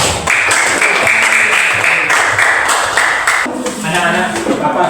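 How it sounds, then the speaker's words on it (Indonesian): A classroom group claps for the first student group after their presentation, loud dense clapping running throughout, with voices mixed in underneath. "silakan berikan tepuk tangan untuk kelompok pertama"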